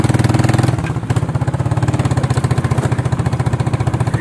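A motorcycle engine runs close by with a steady, fast, even pulsing beat, briefly changing pitch about a second in, then chugging on evenly and loudly throughout.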